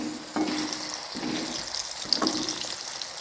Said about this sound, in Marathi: लगेच सर्व आपल्याला या पद्धतीने फ्राय करून घ्यायचं आहे